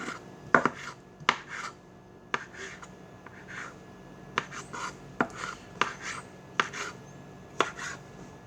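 A knife chops mushroom stems on a cutting board, giving sharp, separate, fairly quiet knocks at an uneven pace, some of them doubled, over a low background hiss.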